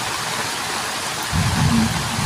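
Steady rain falling outdoors near a river mouth among large dead trees, a continuous broadband hiss that swells slightly louder toward the end, with no voices.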